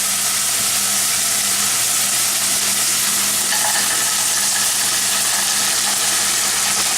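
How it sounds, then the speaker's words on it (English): Mixed vegetables sizzling in a soup pot, a loud steady hiss and crackle of frying that continues without pause, with no talking. "I'm going to add my mixed vegetables to it"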